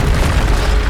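A loud, close boom from a Bombarda spell blast in Hogwarts Legacy, a single dense low burst filling the moment with no voice over it.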